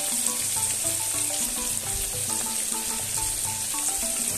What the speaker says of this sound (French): nous sommes en train de saisir notre viande